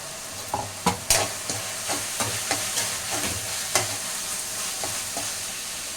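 Fennel seeds, cumin, garlic and ginger fry in a pan, a close, continuous sizzle broken by sharp crackles and spatters every second or so, with no voices.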